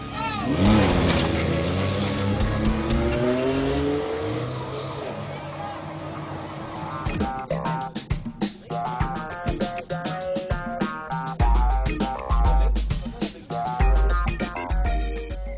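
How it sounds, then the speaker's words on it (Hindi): Rally car at the Jhal Magsi desert race driving off, engine revving and accelerating with loud rising and falling throttle bursts, mixed with spectator noise and background talk. "रेस की दूसरी गाड़ी जो है वो निकल चुकी है, जो कि रोनी पटेल की है"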